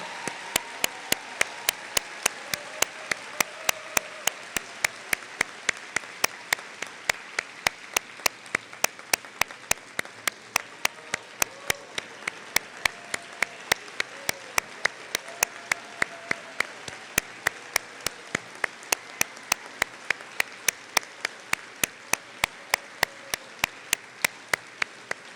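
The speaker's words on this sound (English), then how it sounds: "How about a round of applause for all of our newly coded?" Sustained applause from a large audience at a dental college white coat ceremony, a dense, even wash of clapping that continues for a long stretch. Sharp, regular clicks tick steadily throughout.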